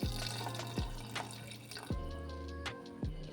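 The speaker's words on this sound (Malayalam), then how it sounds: "അതിനോട്ട് വേണ്ട ആവശ്യത്തിന് വെള്ളം കൂടി ചേർത്ത് കൊടുക്കാം കേട്ടോ" Water is added to a stirred masala in a cooking pot, with faint trickling, splashes and scattered drips alone, no voices, over a soft steady background.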